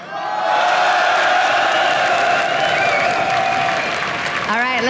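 Esports audience at a 2013 European League of Legends Championship Series match applauding and cheering in a loud, sustained wash of clapping and whoops, with an announcer's voice briefly cutting in at the end.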